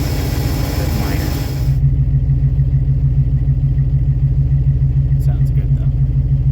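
A Chevy P30 school bus with a 5.7 engine running at idle, a loud, steady low rumble with rhythmic throb, continuing after louder broadband noise drops away early on; faint clicks appear near the end.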